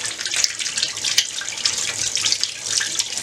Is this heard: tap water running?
yes